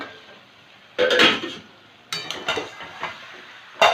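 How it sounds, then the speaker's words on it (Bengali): Metal lid lifted and set aside from a pot of cooking Malabar spinach with hilsa fish head, a few close clanks and clatters separated by quiet moments. "পাঁচ মিনিট পরে ঢাকনা তুলে নিলাম"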